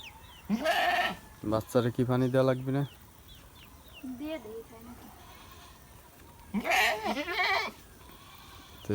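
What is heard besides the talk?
baby goat bleating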